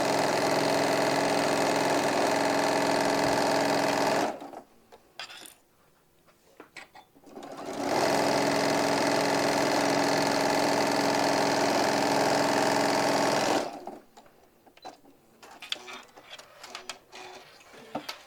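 A sewing machine runs a quarter-inch seam in two steady bursts of loud, even whirring, separated and followed by quieter pauses with small clicks and handling noises.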